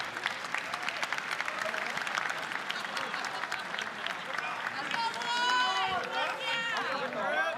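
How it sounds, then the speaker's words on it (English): An audience at the Call of Duty Challengers Boston Breach finals applauds steadily throughout a trophy presentation, with cheers and voices rising near the end. "Give them a round of applause yet again as they pass out the trophies."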